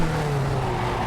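Race car braking hard and lightly touching another car in iRacing at Long Beach, a Skip Barber car with a steady engine drone and faint tire scrub, brief and continuous.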